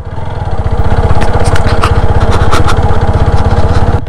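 A motorbike engine runs steadily close by at a resort in Srimangal, its rapid, even firing pulses holding loud and constant throughout, with no talk over it.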